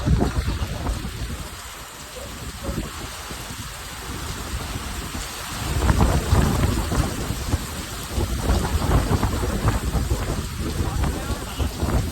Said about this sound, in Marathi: डेंजर पाऊस पडतो